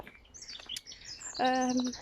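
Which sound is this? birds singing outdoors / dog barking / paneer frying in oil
birds singing outdoors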